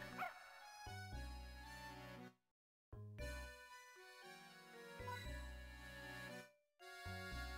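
A dog in the puzzle game Professor Layton and the Curious Village makes bright, tonal barks and yips in short bursts over a game music bed, with brief silent gaps between them.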